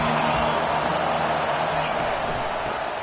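A stadium crowd at a college football game between the Oregon Ducks and Georgia produces a steady, loud roar. A commentator's voice runs over the noise.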